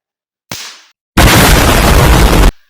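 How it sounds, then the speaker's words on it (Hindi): A firecracker bursts nearby, a short pop and then, after a pause, a loud harsh blast lasting over a second before it cuts off, with no voices. "पहले पटाखा चला के देखते हैं"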